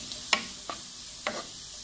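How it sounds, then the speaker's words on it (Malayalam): Green chilies and curry leaves added to frying onions for a Kerala roasted-coconut egg curry, heard as a few brief stirring scrapes and soft sizzle bursts at moderate level with no voices. "ഇതിലേക്ക് നമ്മൾ അരിഞ്ഞ് വെച്ചിട്ടുള്ള പച്ചമുളകും കറിവേപ്പിലയും ചേർത്ത് കൊടുക്കാം"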